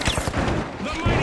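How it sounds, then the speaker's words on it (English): Grenade launcher explosions in the game The Finals, a burst of rapid booming blasts in busy gunfire with a voice speaking over the chaos. "that guy's got a grenade launcher!"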